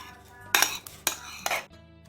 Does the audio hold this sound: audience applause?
no